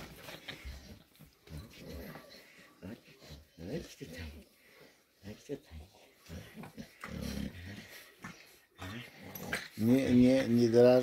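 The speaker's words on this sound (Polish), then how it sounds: "niech się bawią buldożki" French bulldogs play-fight with low growls, snorts, yips and whimpers in irregular bursts, close by, ending in a louder snarling flurry, while a person talks intermittently.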